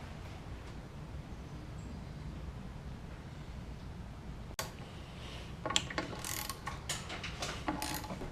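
Ratchet clicking as bolts are backed out of a Jeep tailgate hinge, with several quick ratcheting bursts in the second half over steady background noise and a sharp knock midway.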